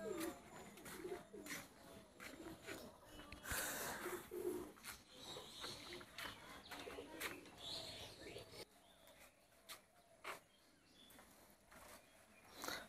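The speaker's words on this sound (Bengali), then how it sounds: "আমি আমার পায়রাদের খাবার দেবো" Pigeons coo and flutter at feeding time around a home loft, a steady murmur of cooing with brief wing and chirp sounds throughout, fairly close, with some background noise and no talk.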